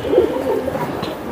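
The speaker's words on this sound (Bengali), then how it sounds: "এগুলো পাঙ্কি কবুতর" Pankhi pigeons cooing up close, a couple of rolling throaty coos in quick succession, fairly loud against a quiet background.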